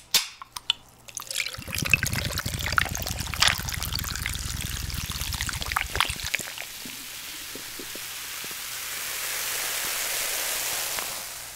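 Cola poured from a bottle into a glass at a spicy squid and enoki fire noodle mukbang table: a steady fizzing, gurgling pour for about six seconds, then a softer hiss of carbonation settling, with no talking.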